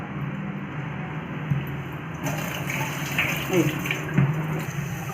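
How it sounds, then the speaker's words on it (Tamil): Finger millet (ragi) being rinsed in water, with the murky water poured off, a continuous running, sloshing flow with a few louder splashes near the end. "இந்த மாதிரி அழுக்கு போகிற வரைக்கும் 2 இல்லை 3 வாட்டி நீங்கள் களைஞ்சிங்க அப்படின்னாலே மேலே அந்த தூசிலாம் வந்துடும்"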